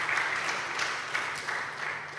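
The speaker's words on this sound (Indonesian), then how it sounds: "Kembali berikan tepuk tangan bagi Tuhan Yesus" A church congregation at an Easter service claps for Jesus, producing a soft, distant wash of applause with faint pulses of clapping across a couple of seconds.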